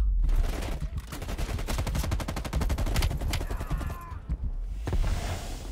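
Rapid bursts of automatic gunfire in the video game Black Ops Cold War, a dense, loud fusillade of machine-gun fire rattling steadily throughout with occasional faint voices underneath.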